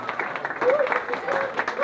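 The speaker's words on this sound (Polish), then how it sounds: "Wielkie brawa dla Edytki." Applause for Edyta Gwoździowska, a runner who covered 110 km at a charity run event, steady clapping from a gathered crowd with voices calling over it throughout.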